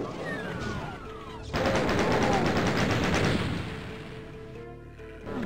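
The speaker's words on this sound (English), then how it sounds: "No, at least there's a chain gun." Chain gun firing in the video game DOOM, a fast loud burst of rattling gunfire lasting about two seconds over game music and effects, with scattered shots and game sounds before and after.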